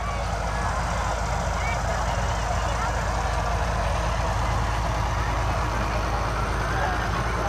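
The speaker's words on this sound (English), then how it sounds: "They're in an international 1066, pulling a float." An International 1066 tractor pulls an elementary school float in a town parade, its engine a steady, close, continuous rumble under broad outdoor crowd noise with no clear breaks.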